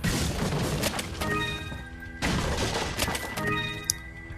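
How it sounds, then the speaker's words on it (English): Barrels are smashed in the VR video game Resident Evil 4, with loud wooden cracks and crashes in two bursts over a bed of game music. "Smashy some barrels"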